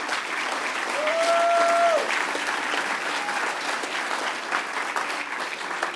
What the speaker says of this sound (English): I'm going to give you guys a round of applause in advance for that